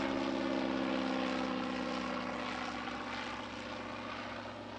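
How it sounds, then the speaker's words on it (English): A 1920s Caudron 109 parasol-wing light aircraft flies past, its propeller engine droning steadily and loud throughout, with a rich low hum that eases slightly toward the end. "The Caudron 109 is a parasol-wing general aviation aircraft built in the 1920s"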